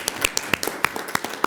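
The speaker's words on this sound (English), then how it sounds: "Let's give a round of applause" Scattered handclaps from an audience after a panel discussion on politics and new media in the Muslim world, a few quiet, separate claps rather than full applause.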